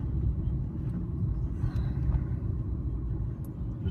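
A 2006 Mercedes-Benz E55 AMG pulls hard on a highway, a steady, deep engine rumble with heavy road and wind noise filling the cabin, no voices heard.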